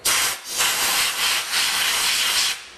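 Compressed air blows solvent off a Meyer E 47 part in a steady close hiss, with three short dips in the blast before it cuts off near the end.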